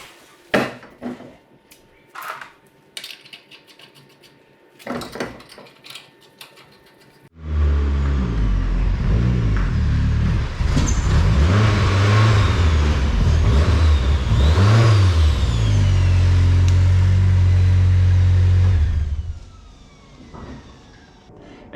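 A car that had a stuck wheel cut off rolls again after sporadic knocks and clatter from nearby work. Its engine then starts, running loud and steady for about twelve seconds with revs rising and falling before cutting off.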